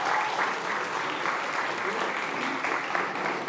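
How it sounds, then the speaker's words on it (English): Audience applause at the All Things Food Summit at South by Southwest, a full room clapping steadily and evenly, moderately loud, with no talk over it. "give a round of applause for our friends at Arva for giving you these"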